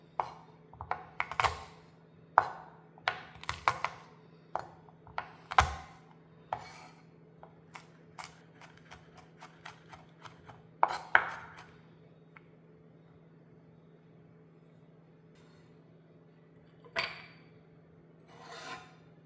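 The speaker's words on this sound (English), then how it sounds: "Then mince the garlic." Garlic being minced with a knife on a board gives irregular bursts of crisp chops and taps, clustered quickly at first, then sparser with quiet gaps; no talking.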